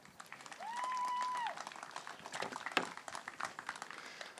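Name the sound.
audience applause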